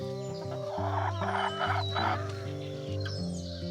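Chickens cluck and murmur together in a steady chorus while eating turnip cuttings, with sharper calls now and then over a constant low hum.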